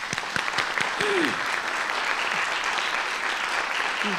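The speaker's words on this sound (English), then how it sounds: "let's give our partners a round of applause" A crowd applauds steadily, a dense wash of clapping with a few sharper individual claps near the start.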